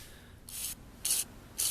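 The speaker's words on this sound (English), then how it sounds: "I'm going to spray it all off inside here" Three short, sharp hissing bursts of aerosol cleaner are sprayed inside a 3G Eclipse mass airflow sensor, evenly spaced and close to the microphone, with no talking.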